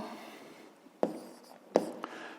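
Handwriting for a fifth-grade maths exercise: a soft pen or pencil stroke with two sharper taps as a letter is marked, close and quiet against faint room noise.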